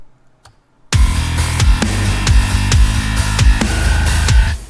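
A modern metal mix of drums and bass with the bass sidechained to the kick starts after a short near-silence, then pounds along with tight, rapid kick hits, snare cracks and a heavy low bass line, loud and dense.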